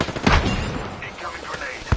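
Gunfire in Apex Legends comes as a few sharp close shots at the start and again near the end, with brief in-game voice callouts in between.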